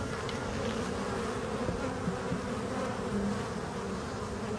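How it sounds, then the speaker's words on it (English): Honeybees swarm around an opened hive as foragers return from the field, making a dense, steady buzz close up with no voices. "a lot of these bees returning right here are bees that have been out in the field"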